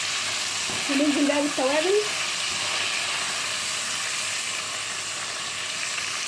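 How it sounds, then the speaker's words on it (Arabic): Tomato sauce with garlic sautés in a pan with a loud, steady sizzle and hiss that lasts throughout. Someone speaks briefly over it. "الصلصة تتشوح كده دقيقة مع الثوم،"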